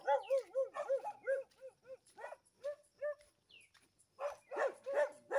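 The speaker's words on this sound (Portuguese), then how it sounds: "Aqueles cachorros ali" Several dogs bark and yip in quick, uneven bursts at close range, with short pauses between volleys and a few higher whining notes.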